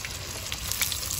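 Stork meat frying in a pan during riverside outdoor cooking, giving a soft, steady sizzle with faint crackles and pops, fairly quiet and with no voices over it.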